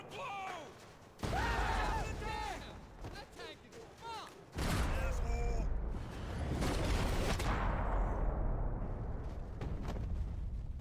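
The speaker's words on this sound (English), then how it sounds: "Gunfire over Hoboken." Video game Max Payne 3 gunfire during combat, with heavy bursts and booming blasts over a loud rumbling roar, voices shouting in places amid the chaos.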